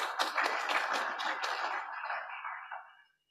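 An audience at a hybrid meeting bursts into applause, a dense, fairly close clapping that holds steady for about two seconds, then thins and fades out before stopping.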